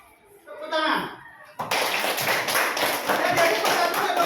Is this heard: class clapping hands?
yes